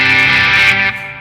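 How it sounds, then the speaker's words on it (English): Electric guitar played through a Charlie Brown overdrive pedal pushed into distorted fuzz, a loud sustained crunchy chord ringing out and then dropping slightly as it decays. "Breaking up almost like distortion there. Some fuzz type stuff."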